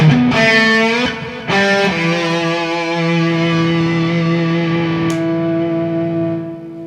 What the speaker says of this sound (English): There's a spring reverb.